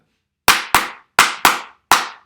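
Five sharp hand claps in an uneven rhythm, two quick pairs and a final single, loud and close with silence between them, played as a pattern in a clap-back game.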